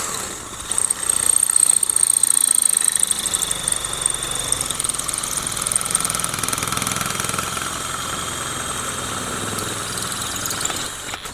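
An electric drill grinds into a stuck wheel lock bolt on a BMW wheel, a steady whirring drone that runs continuously and fairly close, easing slightly in intensity partway through.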